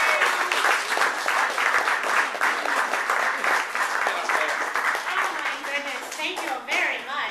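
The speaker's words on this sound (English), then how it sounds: "a big round of applause for America's Girlfriend, Miss Kareth Foster." An audience applauds with dense, steady clapping throughout, loud and continuous, with a few voices mixed in.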